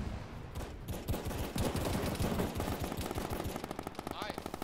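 Rapid automatic gunfire from an Arma 3 firefight in a compound, dense bursts and single shots rattling nonstop at close range, fading into a quicker staccato volley near the end.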